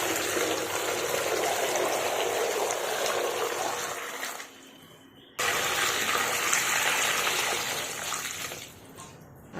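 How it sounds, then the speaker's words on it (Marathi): Water gushes and trickles steadily over raw mangoes being washed for pickle, a continuous close pouring stream that stops briefly midway, then resumes before fading near the end, with no talking. "याच्यामध्ये आपण दुसरं पुन्हा पाणी ओतून घेणार आहोत।"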